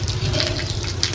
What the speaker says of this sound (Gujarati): बारिश आ रही है